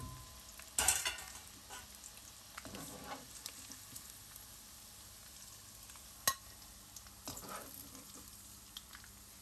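Chicken pieces frying in a pan for fajitas: a soft, steady sizzle with a few louder crackles and stirring knocks, fairly faint overall.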